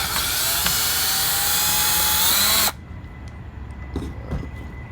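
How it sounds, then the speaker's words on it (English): A train rumbles past right beside a house near railroad tracks, a loud steady roar with screeching tones that abruptly drops away, leaving faint background noise and a few distant knocks. "Excuse the noise. There's another train"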